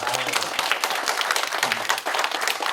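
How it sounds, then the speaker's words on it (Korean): A church congregation at a spring semester opening service breaks into steady, dense applause. The clapping is fairly close and continuous, with no talk over it. "요즘 박수 한번 나와야 됩니다"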